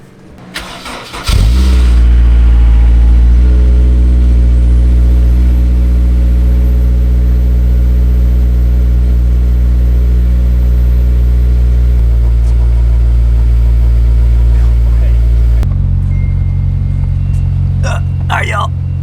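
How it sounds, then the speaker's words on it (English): A Honda S2000 cold starts with a loud crank and catch, then settles into a steady, strong idle held for over ten seconds before the pitch drops near the end. Brief talk is heard at the close. "But we get that cold start for the boys."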